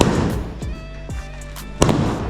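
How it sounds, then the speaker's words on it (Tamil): Firecrackers bursting during a Diwali celebration, several sharp loud bangs in close succession, with a strong burst near the end, over a faint background hum. "இதெல்லாம் கீழே வெடிக்குது. ஐயோ வெடிக்குதே."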